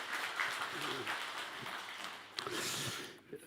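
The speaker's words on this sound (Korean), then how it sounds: "하나님께 영광의 박수 한번 드리겠습니다" A church congregation gives a round of applause during a Sunday worship service. The clapping is soft and distant, steady for a few seconds before it thins out.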